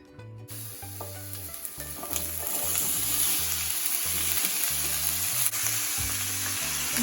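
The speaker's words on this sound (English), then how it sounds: "I'm going to throw this in the pan and get it all cooked." Onions and peppers fry in a pan for vegan lentil tacos, a loud, close, steady sizzle that rises after the first second, with faint stirring and scraping and no talking.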